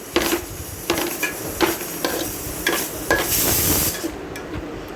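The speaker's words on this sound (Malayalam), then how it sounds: "എല്ലാ സ്ഥലത്തും ഉള്ളിയെല്ലാം നന്നായിട്ട് മിക്സ് ആവണം" Onions frying in a pan for a country-style chicken curry are stirred with repeated scraping strokes over a steady, loud sizzle, close by, with no talking.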